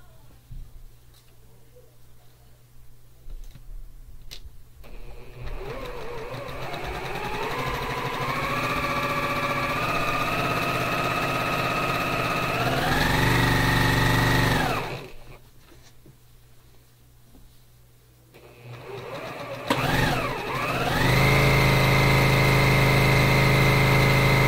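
A sewing machine stitches a quarter-inch seam on an American 'Pride' quilt, its motor whirring up in pitch to a steady run, pausing, then starting up again, with faint background sounds between the runs.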